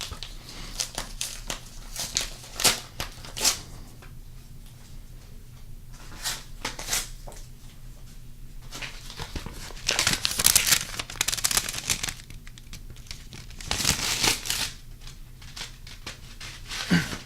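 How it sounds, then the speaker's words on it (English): Crinkling and tearing of a Magic: The Gathering card package wrapper, close and crisp, arriving in irregular bursts of rustle with quieter pauses between them. "And we have another package before we get to the last booster pack. So let's open that up."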